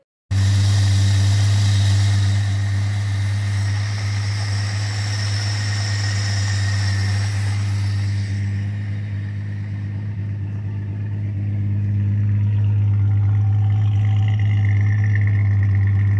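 A 1974 Dodge Dart engine, started after sitting for five years, runs at a steady rough idle with a deep constant hum, close and loud throughout, slightly dipping midway before settling again.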